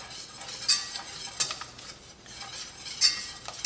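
Maple syrup being stirred into a pumpkin coffee creamer mix, light clinks of a utensil against a bowl repeating irregularly over a quiet background.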